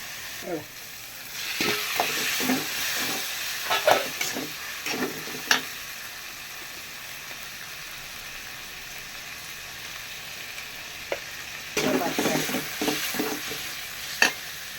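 Ginger garlic paste sizzles in hot oil for mutton curry while a spoon scrapes and stirs the pan in bursts, with quieter frying between.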